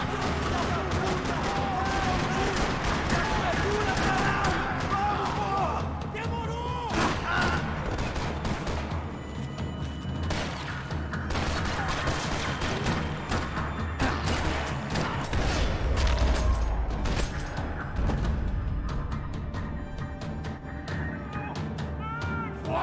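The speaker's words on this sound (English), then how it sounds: "Another parking lot rattling with gunfire." Dense rapid gunfire in the video game Max Payne 3 crackles and rattles continuously in a parking lot, with booms and bursts layered over a loud, busy background.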